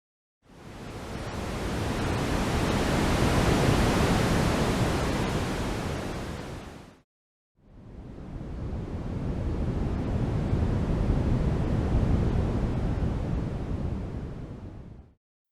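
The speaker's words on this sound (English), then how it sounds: "The Lencore sound masking is a unique, custom-tailored sound innovated to be the most comfortable in the industry." Lencore sound masking noise, a custom-tailored broadband hiss neither white nor pink, plays steadily in two long bursts of about seven seconds each, fading in and out around a brief silent gap, with no voices.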